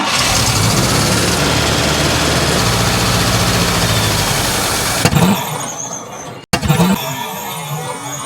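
A 1964 International truck engine cranks with a whirring, squealing starter for several seconds, then catches and roars unevenly to life, loud and close.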